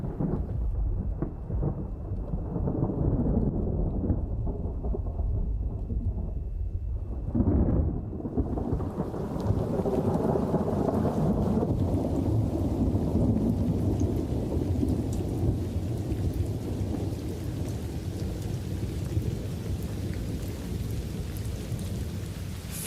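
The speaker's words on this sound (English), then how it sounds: "Finally, rain brings some moisture to the land." Thunderstorm over the parched grasslands of the Kalahari: a low rumble of thunder rolls in, then steady rain pours down in a dense, continuous hiss that stays loud to the end, with no voices.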